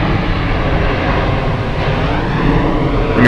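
An airplane passes overhead outdoors: a steady, broad, fairly loud roar that fills the whole stretch with no talking.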